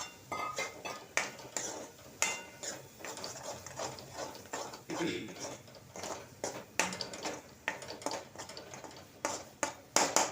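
Leftover masala for stuffed eggplant is stirred into hot oil in a pan, producing repeated rhythmic scraping and clinking of a utensil against the metal along with a soft sizzle throughout.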